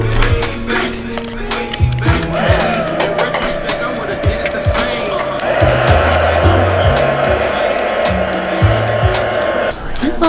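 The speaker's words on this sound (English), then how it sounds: "look what I've done with the heat gun. I tried to dry it" A heat gun blows hot air over a craft piece, a loud continuous whooshing roar with a steady whine, joined by irregular knocks and thumps of handling.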